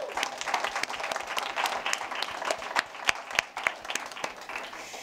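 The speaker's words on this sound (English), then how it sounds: "I think a round of applause is necessary for that." An audience at a climate justice tribunal applauds steadily, many hands clapping in a dense, continuous patter with a few sharper claps standing out.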